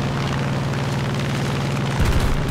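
Bombs dropped from an aircraft in the combat game War Thunder explode with deep, rumbling booms. A steady low roar runs underneath, and a louder burst hits near the end.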